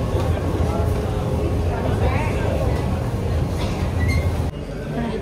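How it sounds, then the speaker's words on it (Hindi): A Dubai metro train rolls into the station with a loud, steady rumble and hiss that drops off abruptly near the end, while voices murmur on the crowded platform. "मेट्रो आयले"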